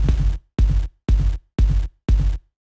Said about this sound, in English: it will put a kick drum on every quarter note,